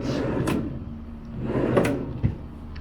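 A hotel room drawer slides open and shut a couple of times nearby, with short rumbling glides and a soft knock at the end.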